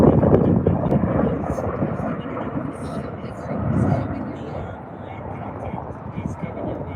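An F-35 fighter jet passes overhead with a broad, roaring rumble that swells and eases off over several seconds, while voices talk over it.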